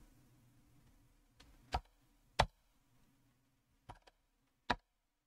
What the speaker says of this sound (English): I was typing the wrong thing anyway